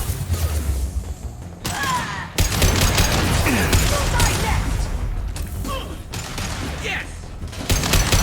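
Rapid gunfire and impact shots from the Mass Effect 2 Legendary Edition video game, a dense run of bursts and thuds over a busy battle mix lasting several seconds.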